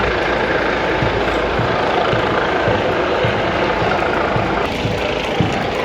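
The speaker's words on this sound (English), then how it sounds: "we've certainly got the police helicopter" A police helicopter drones over a city street parade at Hyde Park, Sydney, a steady distant rotor hum with faint thumping beneath.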